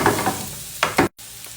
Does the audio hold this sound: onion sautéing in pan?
yes